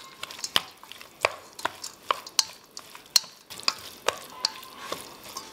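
A chicken, kohlrabi and carrot salad is tossed with dressing in a bowl, giving a close run of irregular crisp clatters and scrapes about every half second, with quiet gaps between and no talking.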